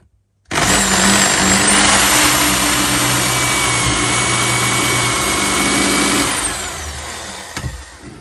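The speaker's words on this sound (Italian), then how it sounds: "stringo questo pomello e pratico un foro su questo pezzo" A Parkside drill mounted in a KWB drill stand bores a hole in a piece of wood, starting with a loud, continuous whine that holds steady and then drops off toward the end.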